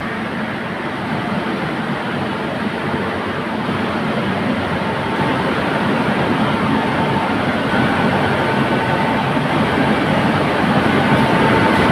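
The 12345 Up Saraighat Express, a passenger train, rumbles steadily nearby with a continuous loud rolling drone that holds even and slowly builds slightly over the stretch, with no talk.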